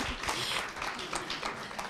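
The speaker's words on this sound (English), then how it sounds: "Yes, you can clap, Elise" Audience clapping at a law school commencement meeting, a short burst of scattered applause from a room of people, fairly even and moderately loud for about two seconds.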